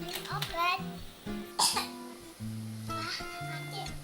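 A child coughs in short, sharp bursts during a pretend doctor game, mixed in with someone talking and a few brief breathy sounds.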